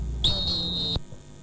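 Referee's final whistle, a single loud, sustained shrill blast of about three-quarters of a second that cuts off abruptly, heard alone.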